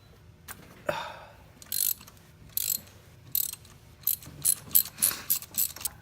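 Close ratchet clicking in a series of short bursts, growing quicker toward the end, as a spark plug is loosened on an Infiniti G35 during plug and coil pack replacement.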